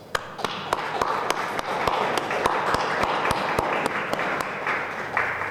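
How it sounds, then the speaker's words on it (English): An audience at a Pittsburgh Land Bank agreement signing ceremony applauds steadily for about five seconds, with crisp, evenly spaced individual claps standing out close to the microphone above the wash of clapping. "Sally Stadelman, our director at the Land Bank, deserves a big round of applause."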